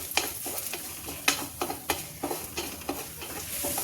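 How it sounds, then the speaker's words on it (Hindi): Cumin seeds fry in a little oil for a garlicky spinach curry, giving a steady close sizzle broken by about a dozen sharp scrapes and clacks of a spoon stirring, with no talk. "अब इसमें हम डाल देते हैं 1 चम्मच जीरा, इसको फ्राई करते हैं।"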